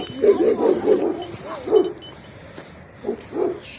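A dog barks in a quick run of deep barks, pauses briefly, then lets out two more.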